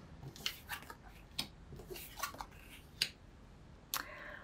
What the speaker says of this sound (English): let's flip these cards over